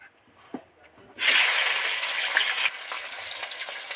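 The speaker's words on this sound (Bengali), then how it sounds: "ক্যাপসিকাম তো সব সব করে ভাজা হয়ে গেছে" Capsicum hits hot oil in a pan already holding cardamom, bay leaf and dried chilli, bursting into a loud, steady sizzle after a quiet start and then easing to a softer frying hiss.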